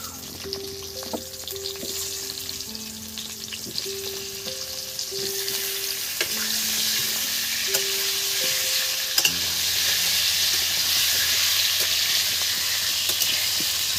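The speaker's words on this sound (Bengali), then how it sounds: "আলুটাকে ভালো করে এই মশলাতে, হ্যাঁ, একটু ভেজে নিতে হবে" Potatoes frying in a spice mix in a pan for a vegetarian cabbage curry, a continuous loud sizzle and hiss with stirring scrapes, a soft melody playing underneath.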